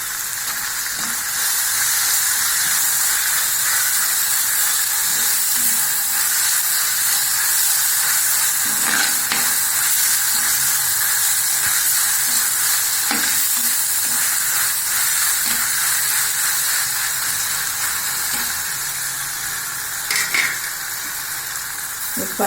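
Curry leaves sizzling in hot oil in a pan of tomato base for a fish curry, a loud steady frying hiss with faint crackles running throughout, close by.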